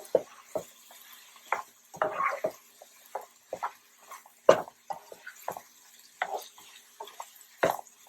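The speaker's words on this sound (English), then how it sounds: "All right, so now we're just gonna mix this all together." Jambalaya pasta is stirred together in a pan, with soft scraping and clattering strokes over a faint sizzle, irregular and fairly quiet.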